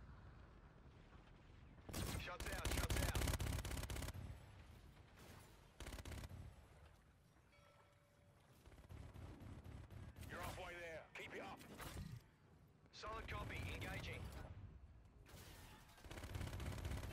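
Video game gunfire in a military shooter, loud bursts of automatic fire in clusters separated by short quiet gaps, with radio-style voices talking between volleys.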